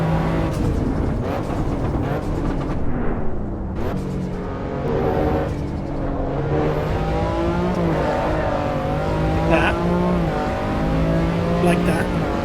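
A race car engine in the racing game Assetto Corsa EVO revs hard and continuously, its pitch climbing and dropping with gear changes made on throttle, loud and close throughout with no pauses.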